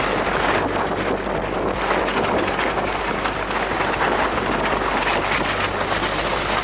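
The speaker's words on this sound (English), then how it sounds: "I don't know if you can hear me, but it's pretty windy." Strong mountain wind near Tukuche, Nepal, roars and buffets the microphone nonstop, a dense, loud rushing that blots out everything else.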